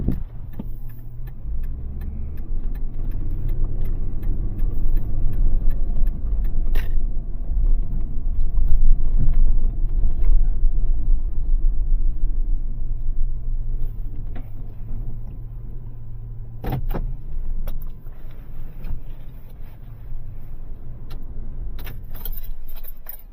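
A 2012 Chrysler Town and Country minivan driving on the road, its engine and tyre rumble steady and loud from inside the cabin, with a few faint rattles and clicks near the end.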